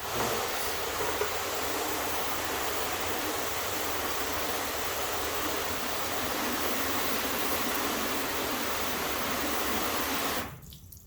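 Steady hiss of water spraying onto a car to rinse off chemical cleaner residue, continuous and broadband for about ten seconds before cutting off abruptly near the end.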